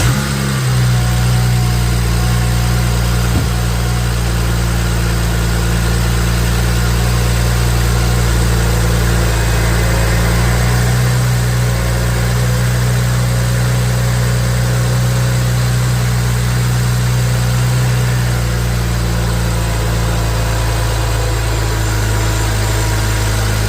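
A 2008 BMW 335i E90 with the N54 engine, just fitted with a new oil filter housing gasket, idles steadily with a low, even hum for the whole stretch, with no talking.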